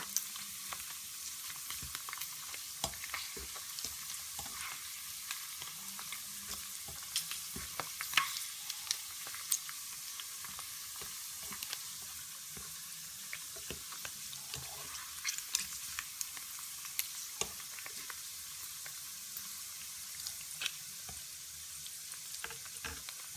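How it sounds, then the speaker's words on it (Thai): Pork cracklings bubble and sizzle in hot oil in a Thai kitchen after about ten minutes of frying: a steady, fairly quiet hiss dotted with frequent sharp pops and crackles, with no voices. "ในขั้นตอนนี้ทอดหมูได้นาน 10 นาทีแล้ว"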